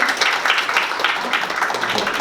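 An audience at a Korean fashion-industry policy forum claps together, dense steady applause filling the hall at a fairly loud level throughout.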